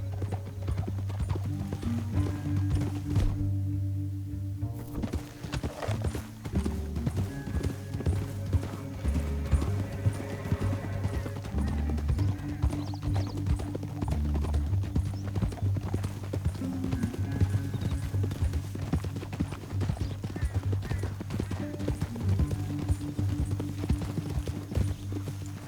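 Horse hooves clip-clopping in the Red Dead Redemption II video game, a steady rhythmic trot running throughout over a low rumbling music or ambience bed, with a brief whinny-like sound early on.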